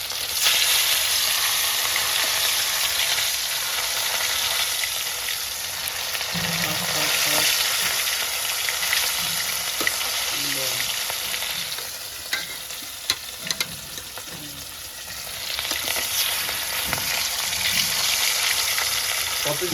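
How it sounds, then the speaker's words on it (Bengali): Fish pieces fry in hot oil in a home kitchen with a steady close sizzle and crackle, while a spatula stirs and taps against the pan now and then. "তবে এমন করে মাছগুলো ভেজে দেবো"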